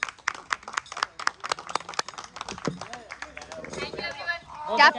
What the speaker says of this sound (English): Round of applause for the Krish.